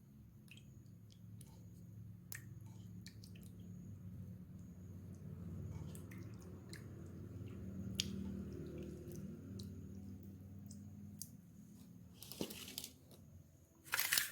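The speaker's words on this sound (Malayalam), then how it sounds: "ഇത് കൈ കൊണ്ട് തന്നെ നല്ലപോലെ ഇളക്കിയെടുക്കാം." Prawns being mixed by hand with a spice masala of chilli powder, turmeric, pepper, ginger, garlic, oil and a little lemon juice, giving soft, wet squishing and squelching sounds in a steady run, close up, with a few sharper clicks and no talk.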